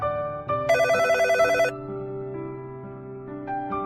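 A telephone rings with an electronic tonal ringtone: a bright, buzzy melodic burst for about a second, then sustained softer tones with brief chimes, fairly quiet and with no speech.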